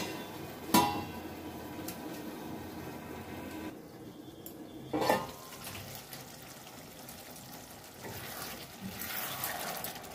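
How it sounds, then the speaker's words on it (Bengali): Kochu (taro) curry simmers in a pot over medium-low heat, giving a soft steady bubbling and burbling with a few sharper pops, close by and fairly quiet. "মিডিয়াম টু লোয়ে আঁচটা রেখে কিছুক্ষণ ফুটতে দেব।"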